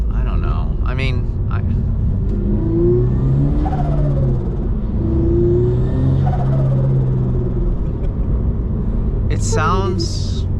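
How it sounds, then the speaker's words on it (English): A 1000 hp 2JZ-powered carbon fiber Toyota GR86 with a turbo idles with a deep rumble under steady close conversation, rising and falling through a few revs, with brief sharp bursts near the end. "it sounds like a turbo car should sound, you know? It sounds good."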